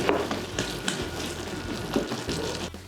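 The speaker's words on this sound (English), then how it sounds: "we're gonna add a nice piece of butter into our sauce and making. And we're gonna continue simmering it for another 5 minutes or so" Butter melting into a simmering asparagus cream sauce, thickened with flour, in a pan: a steady close bubbling sizzle with occasional soft stir scrapes and clinks.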